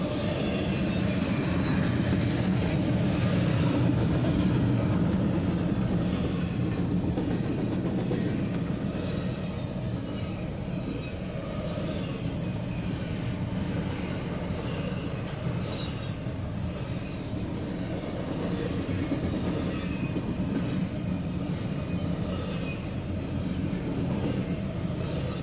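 BNSF intermodal freight trains meeting on an evening eastbound/westbound pass, a loud continuous rumble and roar of rolling cars and locomotives holding steady the whole time, close by and without speech.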